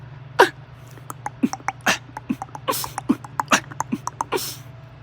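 A beatboxed cough snare, a sharp whispered burst imitating a snare drum, recurs several times in a rhythmic pattern over a steady low hum, loud and close.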